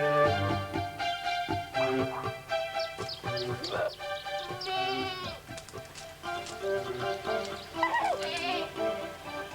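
Goats bleating repeatedly in a rural setting on a remote island park, with overlapping cries at varying pitch heard up close alongside a steady layer of sound.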